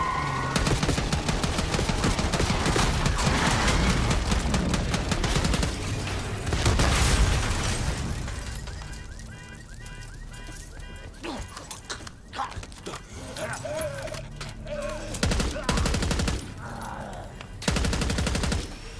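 Automatic gunfire aimed at a limousine on a city street in the Call of Duty Black Ops 6 campaign: loud, rapid bursts of shots and booms that thin out midway, then flare up again in short volleys.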